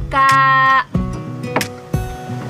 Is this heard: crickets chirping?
no